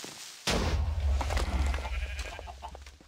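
Sheep bleating in a blocky survival video game, a sudden loud bleat followed by a wavering cry and a few smaller bleats, close by with game noise behind.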